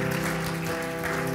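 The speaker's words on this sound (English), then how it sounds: "Why don't we give the Lord a hand clap of praise this morning?" A church congregation gives a hand clap of praise during a morning worship service, brief steady clapping blended with a sustained musical tone underneath.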